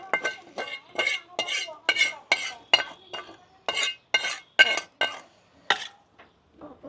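A spoon scrapes and clinks around a cooking pot of pachon, a festive mixed-vegetable dish, in a quick, rhythmic series of about a dozen close, loud strokes with brief pauses between them.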